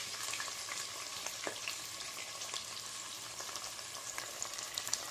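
Thickly sliced onions fry over high flame in hot oil with cinnamon in a pan for a raw mango mutton curry, giving a soft, steady sizzle with occasional crackles and light stirring, with no voices.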